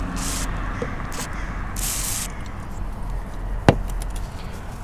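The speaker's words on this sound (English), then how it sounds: "We're just gonna spray a little bit in here" Short bursts of hissing aerosol cleaner spray come in three quick puffs onto a car's sunroof area, over a low background hum, followed by a single sharp knock.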